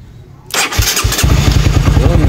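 A motorcycle engine starting at one click after a corroded neutral diode was replaced: a short starter crank, then the engine catches and settles into a loud, close, throbbing idle.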